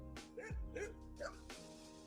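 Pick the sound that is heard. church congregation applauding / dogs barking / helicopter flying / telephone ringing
dogs barking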